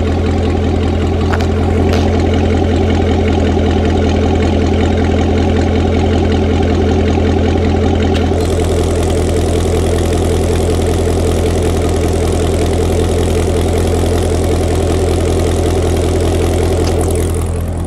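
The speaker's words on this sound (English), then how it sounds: "the difference in the exhaust note going from sport to touring" A C7 Corvette with an Akrapovic exhaust idles loudly and steadily up close in touring mode, a low burbling exhaust drone with a slight shift in tone partway through.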